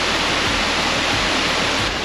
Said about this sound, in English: So there's a big waterfall just there.